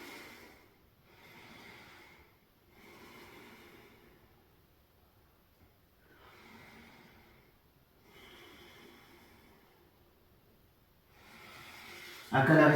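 Slow, relaxed breaths during a yoga stretch come and go in long, soft cycles of about two seconds each, close and quiet, with a sudden louder burst at the very end.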